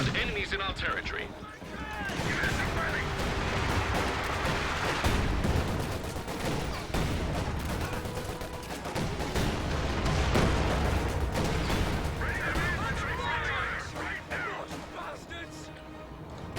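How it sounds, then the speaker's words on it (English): Artillery bombardment in Company of Heroes 2, a dense continuous roar of booms and gunfire that stays loud for the whole stretch, with game voices shouting over it. "Base artillery is ready to bombard enemies in our territory"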